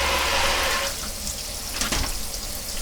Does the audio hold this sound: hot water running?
yes